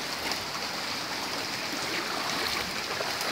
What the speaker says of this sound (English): Here is where the water comes out the rocks.